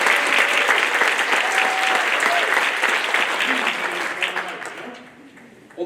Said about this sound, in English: How about a little round of applause for our two hosts?